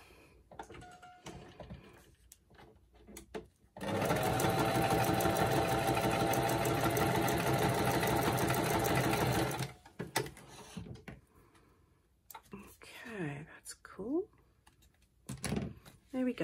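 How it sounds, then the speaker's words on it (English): A sewing machine stitches straight across a recycled paper envelope in one loud, continuous run of rapid mechanical whirring lasting about six seconds, framed by quieter handling noises and a woman's speech before and after. "I'm going to start off by stitching straight across there"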